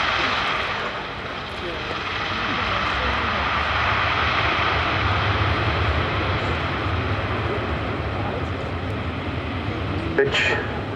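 Propeller airliner engines of a Breitling Super Constellation drone loudly and steadily at Duxford, a broad continuous roar that swells slightly and holds throughout.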